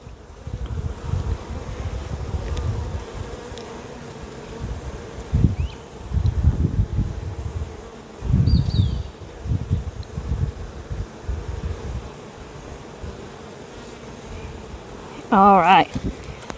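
Honey bees hum around an open hive during an inspection, a steady low buzz running underneath a person talking, with brief rustles and handling noises now and then.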